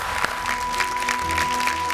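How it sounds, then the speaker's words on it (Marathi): A studio audience on a Marathi television show breaks into brief, continuous applause, even and fairly close, with a faint steady tone sitting underneath. "एकदा जोरदार टाळ्या झाल्या पाहिजे."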